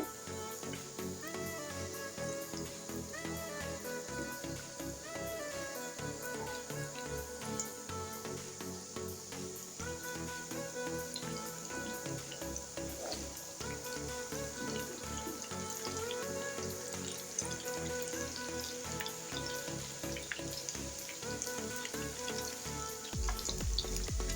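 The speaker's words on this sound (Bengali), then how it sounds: "আমি এভাবে গোল্ডেন কালার করে ভেজে নিচ্ছি" Egg and onion snacks deep frying until golden in a pan of oil, a steady dense sizzle running throughout with faint clinks and stirring, no voices.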